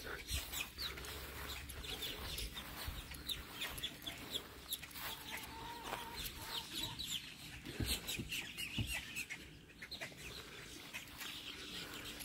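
Chickens cluck on a farm property, a steady scatter of soft clucks and calls heard at moderate distance over outdoor background noise, with a little faint talk.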